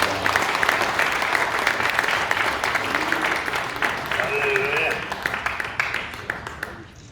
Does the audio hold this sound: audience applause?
yes